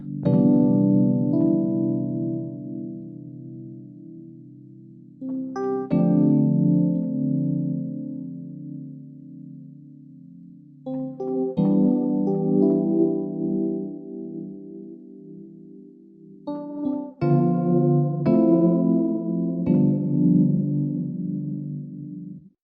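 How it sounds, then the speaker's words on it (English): A synth plays a slow series of sustained chords through a flanger plugin, each swept by a whooshing, jet-like effect, steady and fairly loud with no voices. "Next, we'll give the flanger a listen."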